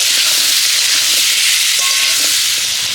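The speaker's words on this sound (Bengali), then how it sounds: "আলুটা দেওয়ার পরেও কিছুক্ষণ নেড়ে চেড়ে ভেজে নেব।" Potatoes frying with tomato and green chillies in a pan, a loud steady hissing sizzle up close, broken by faint scrapes and knocks of stirring.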